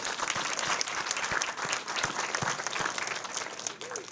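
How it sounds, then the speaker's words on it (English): Applause for a medical team at a primary care clinic's grand opening, a sustained crowd clapping at a fairly quiet distance with a few sharper thumps scattered through. "So to them, a round of applause."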